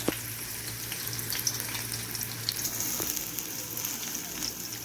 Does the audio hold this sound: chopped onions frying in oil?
yes